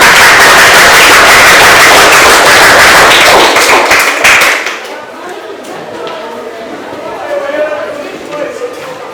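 Classroom group applauding a student group's presentation, loud dense clapping for about four seconds before it cuts off, followed by quieter room noise.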